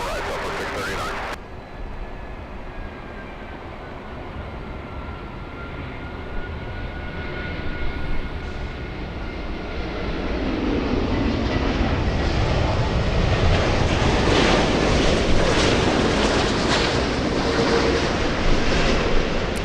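An Emirates airliner on landing approach at LAX passes as a broad jet roar that swells steadily from moderate to loud and stays strong, heard from the ground without talk.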